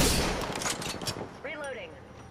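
A rapid burst of gunfire from the video game Apex Legends crackles loudly at the start and fades, followed by a brief chirping game effect.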